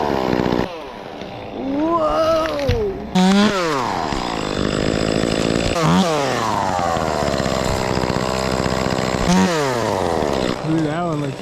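Chainsaw revving and cutting through a tree during a tree removal, its engine pitch rising and falling in repeated loud sweeps, with wind noise and brief talk over it.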